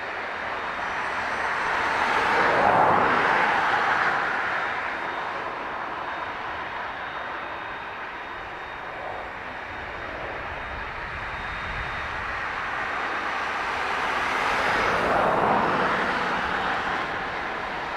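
An ATR turboprop moving at Dublin Airport, a droning engine hum that swells twice as it passes, mid-distance and steady, with no voices.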